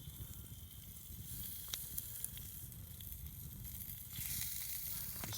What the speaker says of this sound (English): Now let's start browning the chops. We're just going to sear these.